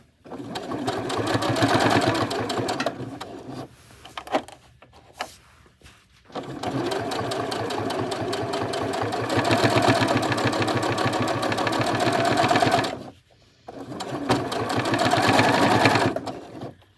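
A sewing machine stitches a multi-layer seam for a quilted project, running in long steady bursts with short pauses between runs, loud and close with no talking.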